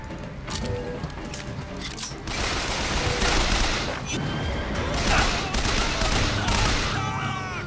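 Rapid bursts of automatic gunfire strafe the player in Bioshock Infinite, dense and loud with overlapping shots and booms running the whole stretch.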